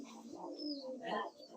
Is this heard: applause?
no